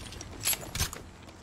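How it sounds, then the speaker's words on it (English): Weapon reloading in the mobile battle royale game Apex Legends Mobile: two short, close mechanical clicks and rattles about a third of a second apart, over a low, steady game ambience, with no voices. "Reloading. Reloading."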